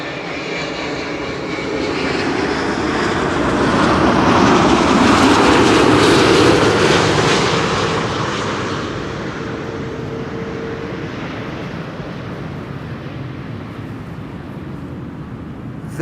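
A Delta Airlines Airbus A330neo jet lands at Schiphol, its engines roaring loud and close as it passes, the noise swelling to a peak and then fading into a steady distant rumble.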